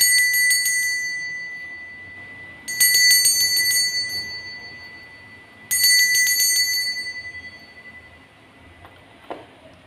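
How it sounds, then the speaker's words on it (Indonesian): A bright metallic bell rings three times in quick trilling bursts, each ring decaying slowly, with quiet background between. "Kita akan memulai dengan ditandai lonceng berbunyi."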